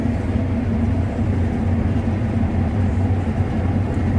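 A combine harvester cutting wheat in a field during a heatwave: a steady, loud, low mechanical drone with constant rumble and no breaks.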